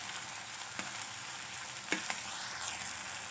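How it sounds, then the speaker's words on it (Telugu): Cut tomatoes and a spoonful of ginger paste sizzle steadily in a pan for a chamadumpa curry with dried fish, with a few stirring scrapes over the continuous frying hiss. "ఇప్పుడు దీంట్లో 2 కట్ చేసిన టమాటా వేస్తున్నాను. ఒక స్పూన్ అల్లం పేస్ట్ అండి."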